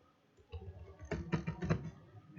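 A name being typed on a computer keyboard, a quiet run of clustered key clicks that starts softly and builds into several quick bursts of keystrokes, close up with no talking.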